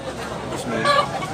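A rooster among Banugon and pumpkin-cross fowl in Tabunok, Cebu lets out a crow partway through, over a noisy yard background with a voice faintly present.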